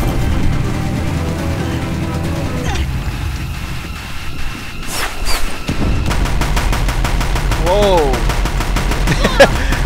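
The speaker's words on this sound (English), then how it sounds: "machine gun, babe." Rapid machine-gun bursts fire in Horizon Zero Dawn, loud and close, with repeated rattling volleys, a short lull and then more sustained gunfire, while a person talks over the action.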